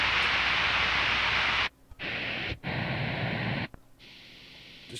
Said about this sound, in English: Another one that's got even more